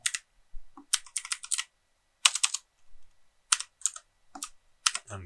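Someone types an email login on a computer keyboard in short irregular bursts of crisp, close key clicks separated by silent pauses.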